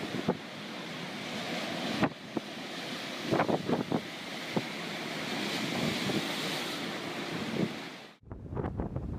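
Hurricane surf pounds the European coastline as strong wind roars across the microphone, waves crashing in a steady churning wash with sharper gusts and splashes throughout.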